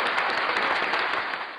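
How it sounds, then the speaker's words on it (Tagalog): Dense, steady applause from a group, continuous clapping that fills the whole moment and eases slightly toward the end, with no talking over it. "palakpak."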